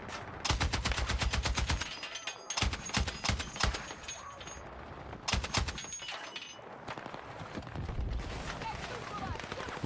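Mounted turret machine gun in Battlefield 6 hammering out long rapid bursts with brief pauses between them, loud and close, with a voice talking over parts of it.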